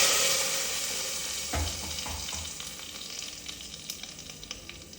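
A hot tempering of mustard seeds, chilli and curry leaves is poured into sambar with a sudden low splash, followed by a crackling sizzle that slowly fades, with sharp pops through the second half.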